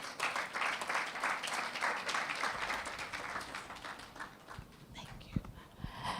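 A crowd at a STEM festival launch event claps in a lively burst of applause that thins toward the end, with some voices mixed in.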